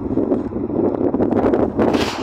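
Gusting wind buffets the microphone in loud, rumbling bursts, continuous and close, with sharper blasts toward the end.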